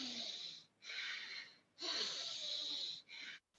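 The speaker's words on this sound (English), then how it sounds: "You are forcefully breathing in and breathing out." Forceful ujjayi breathing in a breathwork rebirthing session: strong, rasping breaths pushed in and out, four long airy surges with short pauses between them, close and loud, with no talk.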